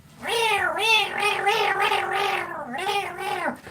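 A cat meows close by, giving a run of about five or six drawn-out, wavering meows back to back, loud and clear, with no talk over them.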